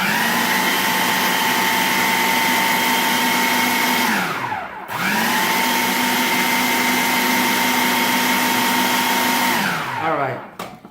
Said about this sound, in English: And I'm gonna just blend that up.